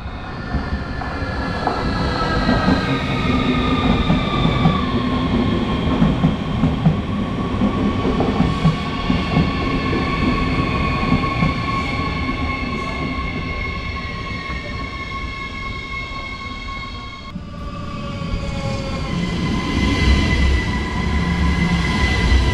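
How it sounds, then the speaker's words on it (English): Trains at Bergen auf Rügen station, a long steady rumble of rolling stock with high sustained wheel squeal and brake tones, loud and close throughout. "here we can take a look at the train traffic at this station"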